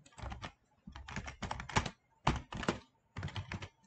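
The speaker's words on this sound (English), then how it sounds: "dito na natin ito type yung ating date" Keys clatter on a computer keyboard in quick bursts as a date is typed into a CAD title block, with short pauses between the clusters of strokes. The typing is close and alone, with no voices.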